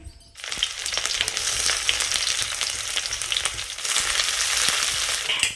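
Onions frying for ghugni gravy crackle and hiss loudly in hot oil, beginning abruptly and holding a steady, bright sizzle with stirring clicks throughout; no voices.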